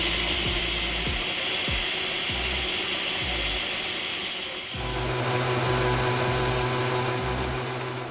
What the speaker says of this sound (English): Okay, I'm going to blend this together.